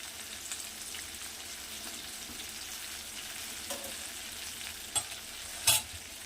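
Spinach and chana dal vadas sizzle and crackle steadily in hot oil, a constant close frying hiss with a few sharper pops and spoon stirs near the end.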